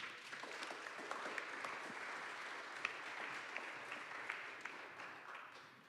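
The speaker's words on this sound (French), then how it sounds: "merci de les applaudir" An audience at a ministerial opening event applauds steadily for several seconds, a dense, fairly distant wash of clapping with no voices over it.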